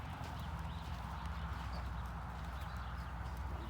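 A horse cantering on a counter-canter circle during a riding lesson: steady rhythmic hoofbeats on soft ground, continuous and moderately close, with no talk over them.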